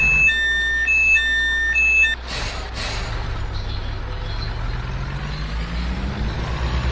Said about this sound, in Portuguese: Eu tô usando um pack de som aqui que é de um caminhão